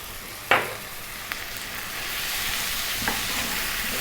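Kashmiri chili powder, cumin, coriander and turmeric sizzle steadily in a hot pan for a vegan pumpkin curry, with a few quick scraping stirs over the continuous frying hiss.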